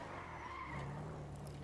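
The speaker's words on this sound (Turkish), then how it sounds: "İşte bu ses, bu arabanın sesi." Car tires skidding with engine noise in the GTA V video game, a steady rushing screech held at a fairly low level for a short stretch, alone without talk.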